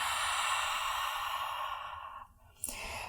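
A long, steady exhale during a yoga breathing exercise practising uddiyana bandha: breath flows out close and clear for about two seconds, fades away, and a brief sharp intake of air follows.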